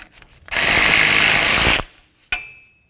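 A power tool, likely an impact wrench, loosens the front axle nut on a 2007-2017 Ford Expedition with a loud, close, continuous rattling burst of just over a second, followed by a short metallic clink.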